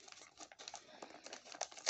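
Scotch adhesive tape being handled close up, quiet crinkling and tearing rustles in short irregular bursts, ending in a sharper rip.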